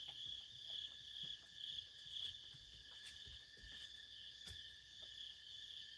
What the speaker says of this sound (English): Do the crickets make you sleepy?